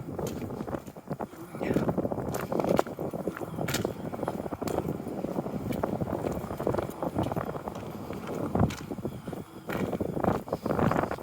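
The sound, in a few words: wind blowing outdoors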